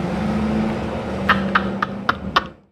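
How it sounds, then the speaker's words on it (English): A loud truck passes by on a street in Mexico, a steady low engine drone building over a few seconds with sharp rattling bangs near the end before fading away, no talk. "As we let the loud truck pass by"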